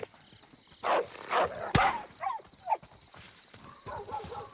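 A dog in the Call of Duty video game barks several times in short, loud bursts amid combat noise, with a sharp gunshot cracking between the barks and quieter game sounds continuing afterward.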